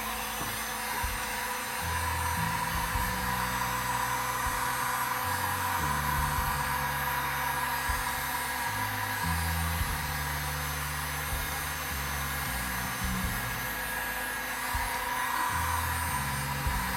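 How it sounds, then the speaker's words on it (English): Heat gun blowing hot air indoors, a steady whooshing fan-like roar with a low motor hum that shifts in stepped pitch changes, running continuously with no talk. "But I also have a heat gun, literally right here."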